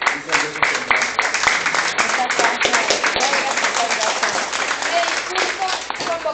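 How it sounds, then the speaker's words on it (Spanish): Sustained applause for a congresswoman at a university forum, dense continuous clapping from a room full of people, loud and close, filling the whole stretch with scattered voices beneath. "aquí vamos a darle un aplauso a la diputada"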